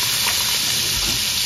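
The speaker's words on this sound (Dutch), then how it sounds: "Daar ga ik nog braadworst bakken." Bratwurst fries in a pan with a loud, steady sizzle and hiss, continuous and close, with no talk.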